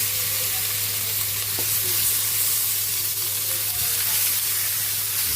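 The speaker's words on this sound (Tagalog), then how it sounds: "Pwede na natin ilagay yung ating pork ribs." Pork ribs hit a pan of sautéed onion for kaldereta and sizzle loudly and steadily, a dense frying hiss that holds throughout with occasional faint stirring clicks.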